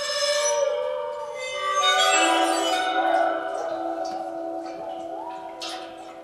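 Water-filled aluminum or metal bowls welded together with rods, bowed to produce sustained, ringing metallic tones with layered overtones that swell and shift in pitch as the water alters the timbre, with faint high clinks.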